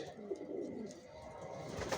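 Adult racer pigeons cooing in a loft, soft low murmuring coos that overlap continuously, fairly faint and close, with a few slightly brighter notes near the end.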